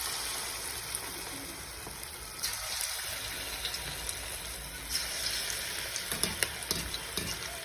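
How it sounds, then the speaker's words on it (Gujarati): Cabbage manchurian balls deep fry in hot oil with a steady, bubbling sizzle, joined by a few louder crackles and clicks as more balls go in and oil is spooned over them. "હવે આપણે બીજા બોલ્સ બનાવીને નાખી દઈશું અંદર।"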